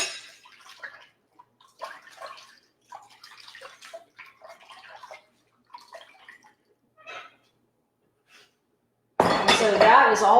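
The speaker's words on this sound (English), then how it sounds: "I'm just going to take my spoon and scoop that right off" A spoon scoops sprout hulls off the top of water. Soft splashes and light clinks come in short, scattered bursts with quiet gaps between them, then a louder rush of water at the end.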